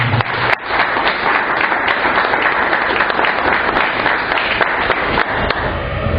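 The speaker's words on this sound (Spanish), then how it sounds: "Denme un fuerte aplauso de bienvenida" A church congregation gives a warm welcoming round of applause, a dense continuous clapping from many hands in a reverberant room, with a few sharp louder claps standing out.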